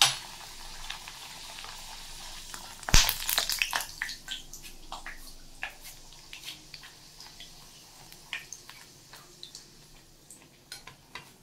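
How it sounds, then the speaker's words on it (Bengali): Beetroot-tinted pink luchi frying in hot oil, a soft continuous sizzle with crackling pops and spits, one loud splash-like burst early on as dough meets the oil, then scattered snaps fading quieter. "বিট দিয়ে লুচি ভাজা, রেড লুচি হয়ে গেল"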